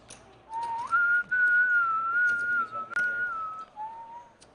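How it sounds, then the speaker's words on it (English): A man whistles a sustained, wavering melodic tune at a high-stakes no-limit hold'em poker table, clear and fairly close, with a brief break midway and quiet room murmur beneath. "Now he's whistling."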